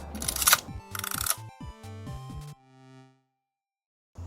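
A Rollei 35 SE compact film camera goes through a short sequence of clicks and mechanical sounds, followed by silence and then a brief final noise, close and clear.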